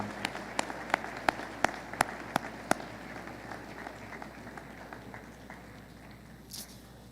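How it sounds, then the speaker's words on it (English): A school Veterans Day assembly crowd claps, sharp distinct claps at first, then fading into softer, scattered applause in a large room, fairly distant and faint. "I ask you to give yourselves a large round of applause"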